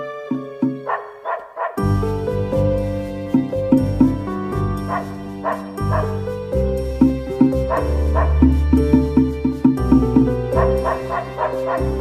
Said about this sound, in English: Harold could hear Lilac's bark, but he wasn't sure where it was coming from.